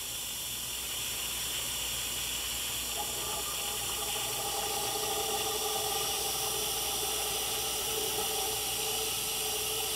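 A fluid extractor draws brake fluid from the reservoir of an Aston Martin DB9, producing a steady, even hiss of suction that holds throughout without breaks, close by, with no voices.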